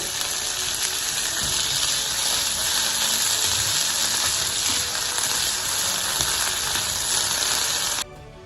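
Chickpeas hit a pan of softened tomatoes and sizzle loudly and steadily for several seconds, with the frying dropping off sharply near the end.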